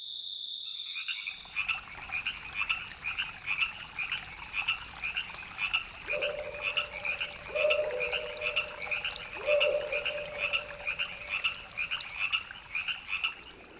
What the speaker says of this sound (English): we hear the sounds of the forest at night.